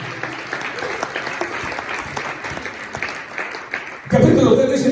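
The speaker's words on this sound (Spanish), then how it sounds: "Le palmas al Señor." A church congregation claps in praise during a Spanish-language sermon, a dense, steady applause that swells louder near the end alongside voices.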